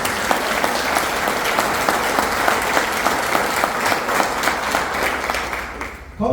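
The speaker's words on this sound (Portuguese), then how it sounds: "Dá um aplauso a Jesus, querido." A church congregation claps throughout, the applause steady and dense with individual claps standing out, before it drops away near the end.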